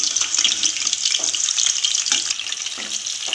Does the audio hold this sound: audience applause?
no